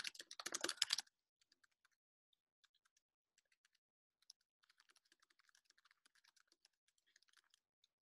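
A computer keyboard gives sparse, faint key clicks spread out over several seconds after a short louder rustle at the start, with no voices.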